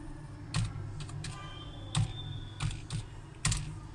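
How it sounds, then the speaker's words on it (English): Keys on a computer keyboard click in a short burst of typing, close and fairly quiet, about eight separate taps spaced irregularly over a few seconds. "type in our password."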